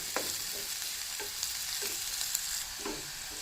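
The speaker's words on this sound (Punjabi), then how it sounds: "ਮਸਾਲਾ ਵੀ ਸਾਡਾ ਭੁੱਜ ਗਿਆ ਹੈ" Spice masala frying in a pan for achari potatoes, a steady close sizzle with several soft stirring scrapes and clicks spread across it, no voices.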